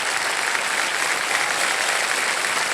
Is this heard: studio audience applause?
yes